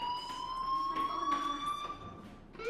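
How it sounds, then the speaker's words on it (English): A fire alarm in the video game Life is Strange rings as a steady high electronic tone that holds throughout, moderately loud, with faint background noise. "Hey, do you hear that fire alarm? That means you should be outside."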